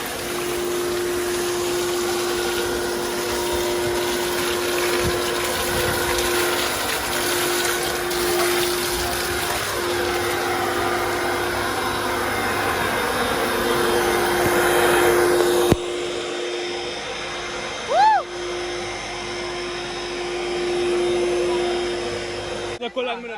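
A river rushes in a loud, steady roar near a hidden waterfall in St. Mary, with a constant hum running underneath and a brief splash or knock near the end.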